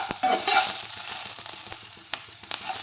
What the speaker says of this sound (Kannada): ಈರುಳ್ಳಿ ಚೆನ್ನಾಗಿ ಗೋಲ್ಡನ್ ಕಲರಲ್ಲಿ ಏನೋ ಫ್ರೈ ಆಗಿರಬೇಕು